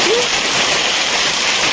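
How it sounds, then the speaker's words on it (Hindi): Heavy rain pours down in a steady, dense hiss that stays constant and close throughout the short stretch, with no voices over it. "जोर वर्षा आरंभ हो जाए"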